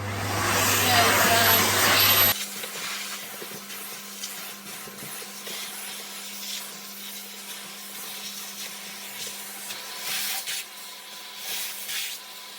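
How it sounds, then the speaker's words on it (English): A Miele vacuum cleaner roars loudly for about two seconds, then cuts to a quieter steady hum with faint scraping and rubbing of a nozzle against a tumble dryer. "Every time I vacuum in here, which is every couple of days, I also vacuum my tumble dryer."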